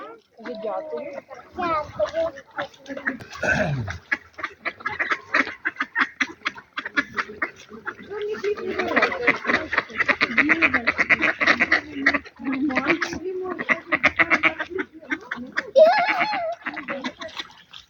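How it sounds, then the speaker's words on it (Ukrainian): Ducks quack repeatedly as people feed them in a park at the Truskavets resort, mixed with chatter and laughter from nearby people. "Всі кормлять качок. І один лебідь."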